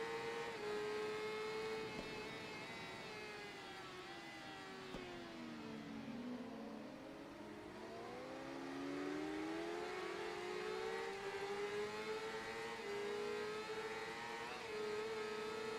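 A motorcycle engine in the Ride 3 racing game revs steadily, dipping in pitch as it slows through a corner and then climbing back as it accelerates again; loud and continuous with no talk.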